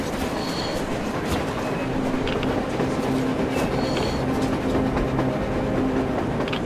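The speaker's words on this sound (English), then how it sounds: "A train! A damn train on the surface!" A train rolling past on the surface in the video game Metro Exodus, a steady dense rumble of wheels and carriages with faint metallic clacks and squeals, continuous and fairly loud throughout, no voices.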